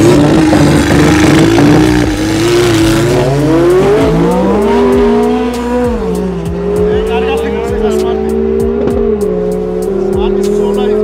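Drag racing cars, a McLaren among them, launch down the strip at a 2025 drag season opener, their engines climbing steadily in pitch under loud, continuous revving while voices talk over the roar.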